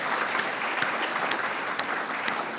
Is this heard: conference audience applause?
yes